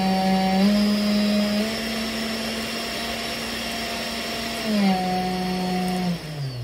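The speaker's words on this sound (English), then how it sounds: "a quick demonstration of the control of the spindle motor after we've made these modifications" A 300-watt spindle motor on a 3018-Prover CNC machine whines steadily at one speed, then drops to a lower pitch and winds down near the end, loud and close with no talk.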